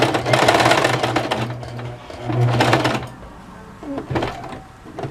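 A sewing machine stitches ladybug spots onto cosplay fabric in several close, rapid bursts of needle chatter, separated by short pauses while the fabric is turned with the needle down.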